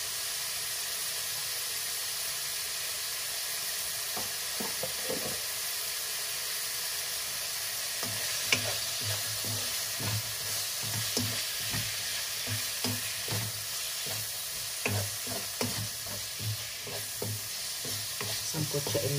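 Food frying in a pan with pepper being added, a steady sizzle and hiss running throughout, joined by repeated scraping and clattering stir strokes that grow busier in the second half, close and alone with no talk.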